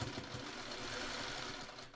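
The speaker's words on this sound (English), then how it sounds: "now we're ready to start sewing these" Sewing machine stitching quilt blocks together for a traditional Hot Cross Buns quilt pattern, a steady, continuous motor whir with rapid needle chatter running unbroken and close throughout.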